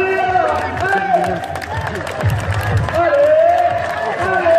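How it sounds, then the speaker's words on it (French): Spectators at a soapbox race in Ajaccio cheer and clap as a young driver reaches the judges, a loud close crowd roar with scattered claps and shouting voices throughout. "On commence déjà à l'applaudir, elle arrive dans les juges"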